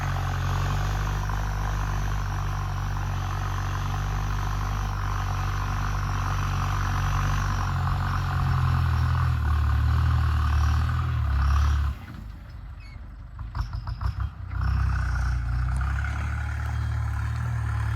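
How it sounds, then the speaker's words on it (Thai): An MF504 YTO tractor plows rice stubble, its engine droning loudly and steadily. Around the midpoint it briefly drops and clatters, then returns to a full roar. "อันนี้ไถกบต่อฟางครับ อยู่กับเจ้าแชมป์ครับ MF504 YTO ครับ"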